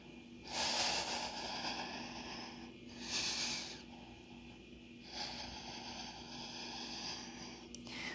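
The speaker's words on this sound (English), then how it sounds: "One more deep breath." Deep yoga breathing: a few long, airy breaths rise and fall in slow succession, soft and close, with no talking.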